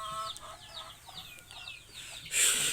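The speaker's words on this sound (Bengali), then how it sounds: "দেখতে পাচ্ছ এখানে আমার কিছু মোরগ মুরগি রয়েছে" Chickens in a backyard flock of roosters and hens, including fighting-breed birds, cluck softly in a quiet series of short calls at moderate distance, ending with a brief burst of louder noise and no talk.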